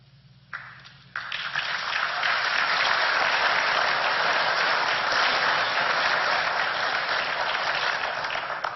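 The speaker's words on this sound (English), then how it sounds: "Chad Taniguchi clapped" Sustained, dense applause from a large audience at a State of the City address, swelling in after a brief quiet moment and continuing loud and steady to the end.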